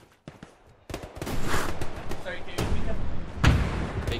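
Close gunfire in Hell Let Loose's Hurtgen Forest map, with dense overlapping shots and bursts over a steady rumble of battle and a heavy impact near the end.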